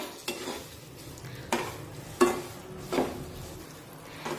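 Finely chopped banana is sautéed in semolina while a spoon stirs it, with a soft steady sizzle broken by four or five distinct scraping knocks of the utensil against the pan.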